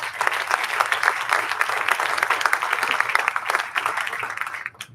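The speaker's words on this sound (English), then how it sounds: "Please give them another round of applause." Audience applause at a college bowling post-season awards show in a Las Vegas hotel, dense sustained clapping from a large crowd for about five seconds before tapering off at the end.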